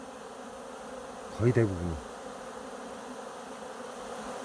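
Honeybees fly out of the hive as a short, close buzz that swells and fades over about half a second against low background hum, with someone speaking in Korean.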